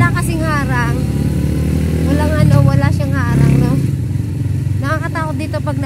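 A motorcycle rides along a narrow road with no barrier at the edge, its steady engine drone running loud and close throughout while people talk over it.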